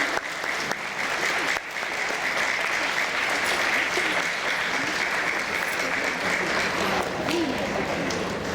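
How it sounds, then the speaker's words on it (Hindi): An audience in an ashram hall gives loud, steady applause for a children's play, continuous dense clapping that holds evenly throughout. "जोरदार तालियों से हम उनका उत्साह बढ़ाएंगे।"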